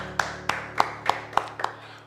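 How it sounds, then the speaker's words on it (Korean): Hands clap in a slow, even rhythm, six sharp claps about a third of a second apart, close and distinct, at a church youth Sunday service streamed online, with no voices over them. "우리 찬양을 받으신 하나님께 감사의 박수를 드리겠습니다."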